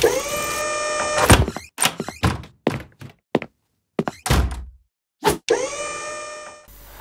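A heavy door thunks and slides open in a short film, with several dull knocks and clunks spaced out, then a longer resonant opening sweep near the end, loud and close with no talk.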